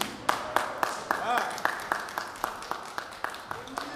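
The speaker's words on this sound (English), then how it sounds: "Can we please get a clap, please?" A small audience at an Occupy Fights Foreclosures gathering claps, giving a rhythmic series of distinct claps at roughly even intervals, moderately near, over faint room noise.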